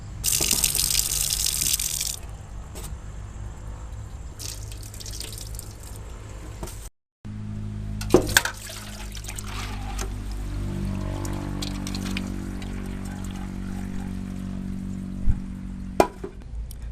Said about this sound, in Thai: ถั่วเหลืองเรานำไปล้าง ประมาณ สี่ห้าน้ำนะคะ จนจนกระทั่งน้ำใสนะคะ